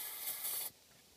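An aerosol can of brake or carb cleaner sprays in one short, bright hiss lasting under a second, then cuts off abruptly, during work on a 6.0 Powerstroke engine's EGR and oil coolers.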